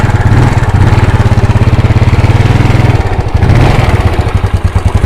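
A Yamaha Ego S scooter engine, just repaired, starts and idles loud and close with a fast steady putter that dips briefly, then wavers unevenly toward the end; no speech.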